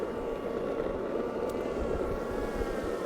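A Skydio 2 drone flies nearby, giving off a steady mid-pitched propeller whine and hum that stays fairly constant in loudness, with no voices.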